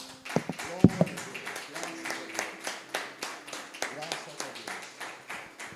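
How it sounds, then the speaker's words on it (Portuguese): Quiet, rhythmic clapping from a church congregation praising God during a worship service, an even beat of claps with a voice speaking over them. "Vamos aplaudir o Senhor nosso Deus, irmãos?"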